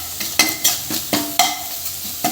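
Tomatoes sauté in a pan as a spoon stirs them in repeated scraping strokes, roughly eight close, evenly spaced scrapes over a soft sizzle.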